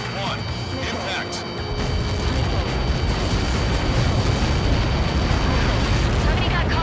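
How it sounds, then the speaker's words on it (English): An explosion in the Ace Combat 7 air-combat video game: a loud, sustained, rumbling blast that swells and holds for several seconds over dense game noise. "Somebody got caught in that explosion."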